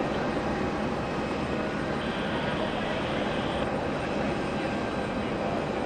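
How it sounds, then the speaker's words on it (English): A Boeing 747 taxies at JFK, a steady broadband engine roar with a low rumble that holds at constant loudness throughout, with no clear talking over it. "We're gonna take a look at the Queen of the Skies taxiing right in front of us."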